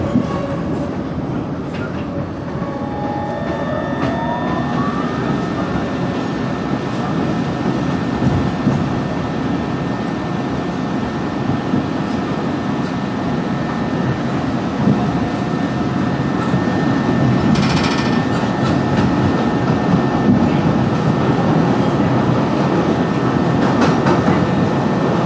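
A Chicago elevated train runs along its tracks, heard from on board, with a loud continuous rumble, rattling and clickety-clack, plus brief wheel squeals and a high screech toward the end.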